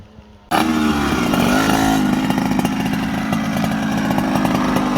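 Vintage Yamaha motorcycle with a swapped YZ85 engine, a loud raspy two-stroke buzz that bursts in after a quiet moment and stays close and steady as it races past.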